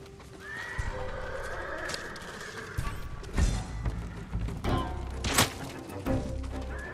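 Samurai horses at a stable in the video game Ghost of Tsushima give a long, clear whinny, followed by snorts and heavy hoof clops and thuds, close and loud.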